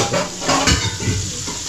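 Pomfret fish fries on a flat griddle, giving a loud, dense, continuous sizzle up close, with faint clatter over it.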